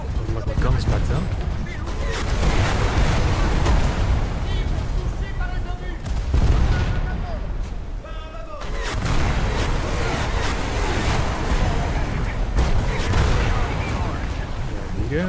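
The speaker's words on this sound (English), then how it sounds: "Those rockets are relatively small caliber, so it doesn't matter." Small-calibre rockets and gunfire pound a boat during a French coastal naval battle in a video game, with loud, dense bursts of booms and crackling impacts running almost continuously, broken by short dips.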